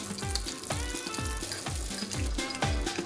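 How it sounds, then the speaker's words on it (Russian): Spaghetti in a frying pan sizzles while cream is poured in, with a regular thumping beat of music running beneath the crackling. "Затем мы добавляем сливки."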